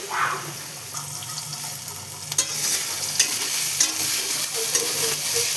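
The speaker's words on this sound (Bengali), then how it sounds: "রসুন সম্বারটা দিয়ে দিলাম বন্ধুরা" Garlic and black cumin seeds hit hot oil with a loud, steady sizzle for tempering cooked saag greens, joined by stirring scrapes and a brief splash, close up and without talk.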